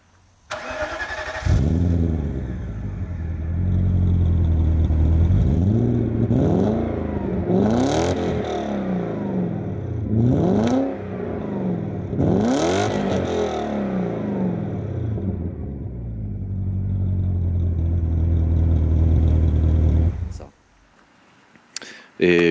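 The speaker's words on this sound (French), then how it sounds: "on a cette magnifique sortie d'échappement symptomatique de l'absence de silencieux" A BMW 730i E32 running on a straight-pipe exhaust with no muffler, its loud, raw engine note rising and falling in repeated revs for about twenty seconds, with speech mixed in over it.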